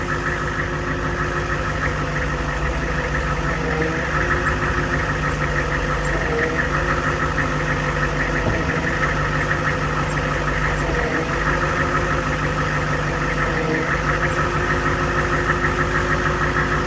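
An HMMWV engine idles steadily with a continuous whine from its hydraulic system running over the low, even rumble; close and constant throughout, with faint murmuring under it.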